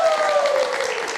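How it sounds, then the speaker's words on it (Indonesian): Audience applause for Mbak Sita at a live talk show event, a steady wash of clapping over the full moment with a voice tone sliding beneath it. "kita kasih tepuk tangan untuk Mbak Sita"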